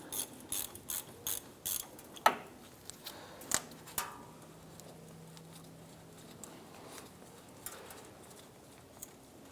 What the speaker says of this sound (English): Now before we loosen the drain here on our cooling system